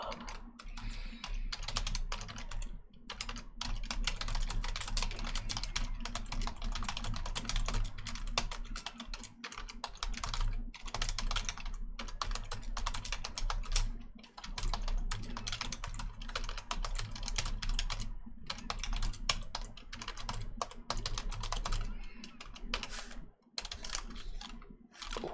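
Steady computer keyboard typing in Excel, with continuous clattering keystrokes and brief pauses, close and fairly loud throughout, alone with no voices.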